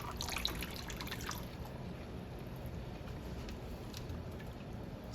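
Water dripping and trickling while indoor greenhouse plants in a semi-hydroponic setup are watered, a faint, steady wash of splashes with scattered drips and no voices.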